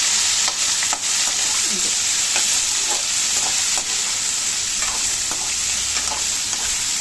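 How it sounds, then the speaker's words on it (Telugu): Green chillies and onions dry-fry in a pan while being stirred, producing a loud, steady, close sizzle with light scraping throughout and no voices. "పచ్చిమిర్చి ఆనియన్స్ డ్రై ఫ్రై చేద్దామని అనుకుంటున్నాను"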